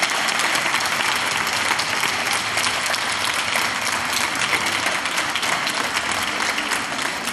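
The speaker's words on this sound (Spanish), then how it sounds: "un fuerte aplauso para estos dos equipos" An audience in a debate hall applauds two debate teams, with sustained, even clapping from many hands that fills the room without a break from start to finish.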